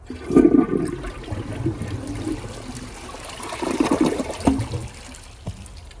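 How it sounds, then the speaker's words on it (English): A Glacier Bay high-efficiency toilet flushes close by, a gurgling rush of water rising and falling in two surges before trickling away to quiet. "So let's give it another flush"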